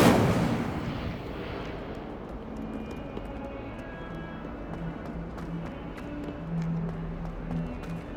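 Incendio fire spell cast in Hogwarts Legacy: a loud fiery whoosh at the start fades into a low rumbling crackle with scattered light clicks and faint tones from the game's surroundings.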